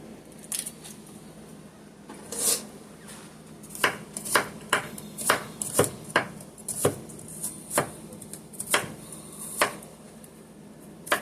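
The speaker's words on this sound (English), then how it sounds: "I'm just going to chop it down real fine." A knife chops garlic finely on a cutting board, making a run of crisp, sharp knocks that start sparse and then come in a quick uneven rhythm, close and distinct with no talking.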